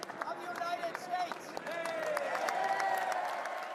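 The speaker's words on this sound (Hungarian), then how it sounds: "Hatalmas taps, készfogások, ünneplés, így vonult be az amerikai elnök" Applause and cheering from a crowd in the US Congress as the American president enters, a dense roar of clapping with scattered shouts, moderately distant, under a voice speaking.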